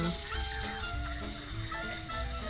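Busy outdoor birdsong in Ubud, Bali, near rice fields, with chirps and clucking calls over a constant background hum, birds fairly close and overlapping throughout.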